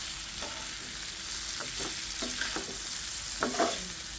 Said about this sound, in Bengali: এখন আমি আলুটা মিশিয়ে দিলাম